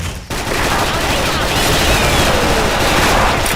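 Gunfire in a shooting video game: a dense, continuous roar of shots and loud game noise filling the whole stretch after a brief dip at the start, with no clear talking.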